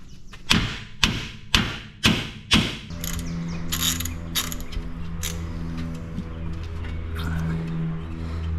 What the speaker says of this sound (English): I'm going to have him to try to bump this bar and to see if the bar will pop off of that sway bar end link.